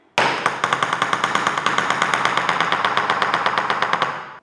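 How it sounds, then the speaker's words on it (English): A shoebill clatters its beak in a rapid, even burst of sharp wooden knocks, loud and close, running continuously for about four seconds before stopping abruptly. "Shoebills do that with their beaks."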